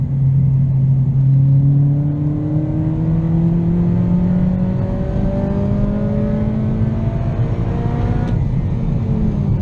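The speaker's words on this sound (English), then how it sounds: "So that's rev match downshifting." Engine of an 8th-generation Honda Civic Si rising in pitch under throttle, with a brief blip and drop near the end as it downshifts with rev matching; a steady, loud, close interior drone with no talking.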